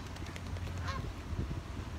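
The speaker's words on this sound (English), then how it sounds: "That new goose. If anyone knows what species," A goose of uncertain species, not a Canada goose, gives a few faint honks at a distance over low outdoor background noise.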